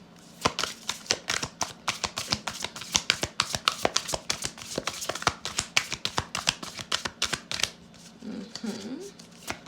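Rapid riffling and slapping of an oracle card deck being shuffled, many quick crisp flicks in bursts, close by, with a brief voice near the end.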